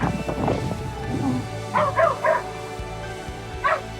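A dog barks and yips in a few short bursts at a campground in a provincial park, moderately distant, while outdoor ambience and some faint human sound fill the background.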